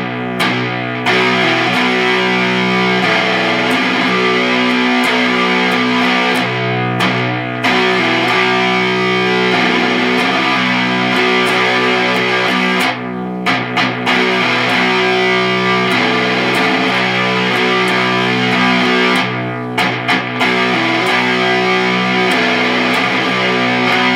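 The heavy distorted closing riff of a song plays continuously and loud on electric guitar, with chugging sustained chords and a few brief pauses, no voices.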